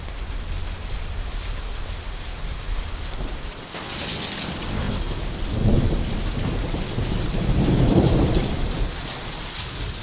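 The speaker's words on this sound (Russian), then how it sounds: "я попал с ней под дождь" Rain falling during a thunderstorm, caught on a binaural headset: a constant patter and hiss of raindrops with swelling low thunder rumbles, a brief bright splash or rustle near the middle, no speech.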